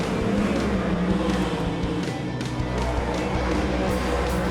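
Superstock race cars in a qualifying race at Paradise Valley Speedway, a dense, continuous engine roar that holds steady throughout with no clear pauses, loud and close.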